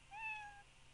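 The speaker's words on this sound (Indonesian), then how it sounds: "Ini suara meong" A single cat meow used as a sound effect in a Scratch program, one short, clear, rising-then-falling mew lasting about half a second over quiet background.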